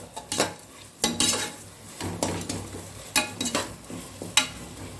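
Onions sauté in a pan for chicken biryani, a spatula scraping and stirring in repeated strokes over a soft, steady sizzle.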